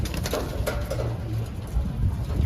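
Pigeons cooing softly nearby with light pecking and fluttering as they feed, a busy flock sound that holds steady throughout.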